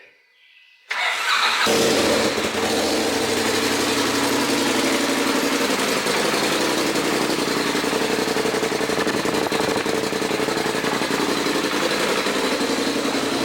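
A big-turbo, highly built car engine fires up after a short silence, catching abruptly and settling into a loud, steady idle that runs on unbroken close by.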